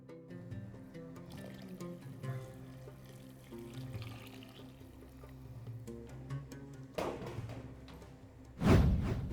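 Water pours into a pot of Moroccan harira soup with beef and rice, a soft running trickle under low kitchen hum, ending in a louder, brief gush and splash.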